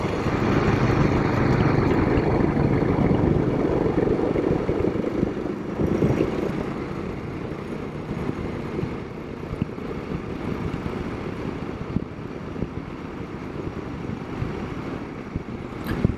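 A Royal Enfield Himalayan motorcycle crawling along a road in Virginia in 4th gear, a low, steady engine rumble mixed with wind noise, louder at first and then settling slightly quieter.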